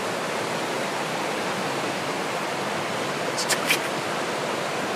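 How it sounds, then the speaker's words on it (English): A raging river rushes in a continuous broad roar of churning water, steady and close, with a brief faint higher sound near the end and no talking. "I found the source of this river, this raging river."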